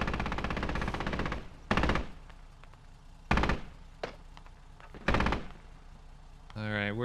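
Gunfire crackles in the Squad video game: three loud, close bursts of rapid shots with quieter single shots between them. A voice breaks in at the end.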